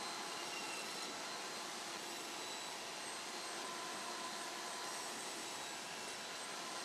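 A table saw making test cuts with a newly built sled: a steady, loud whirring roar of the spinning blade and motor holding constant throughout, close by, with no distinct cut onset or talking.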